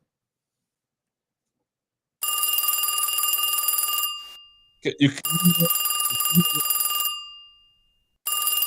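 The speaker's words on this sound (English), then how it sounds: "Can you hear this ringing, everybody?" A telephone rings with an incoming call in short electronic bursts separated by pauses, loud and close. A voice briefly speaks in one of the gaps.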